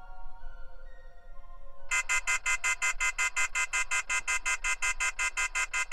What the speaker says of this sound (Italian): Quando torniamo nel menu principale ci dà questo allarme e ci ricorda di togliere il connettore OBD dalla vettura.